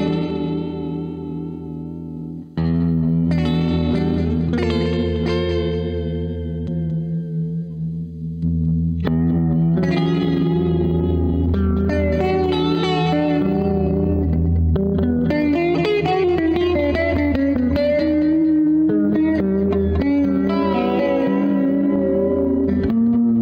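An electric guitar played through a pedalboard of lo-fi effects pedals, with distorted, echoing and warbling tones shifting over a sustained droning low end, loud and continuous.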